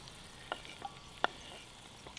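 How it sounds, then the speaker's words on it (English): Onions frying in a hot pan on a woodstove at a tipi bushcraft camp, a faint steady sizzle with a few sharp clicks and taps. "Drop some onions in here."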